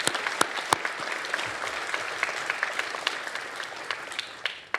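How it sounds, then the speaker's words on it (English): Audience applause at a university presidential inauguration ceremony, a moderately loud, steady patter of many hands with a few sharp, distinct claps standing out, lasting several seconds. "They deserve an applause."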